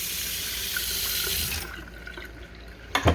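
Water runs steadily from a pull-out faucet into the sink of a 2024 Outback 342CG camper kitchen, a continuous close hiss that cuts off partway through, leaving a quiet moment before a brief clatter at the end.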